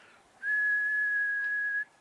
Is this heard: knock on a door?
no